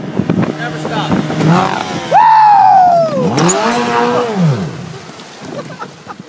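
An Evinrude outboard boat motor runs loud and close, its droning pitch sweeping up and down as the throttle changes, with people talking over it.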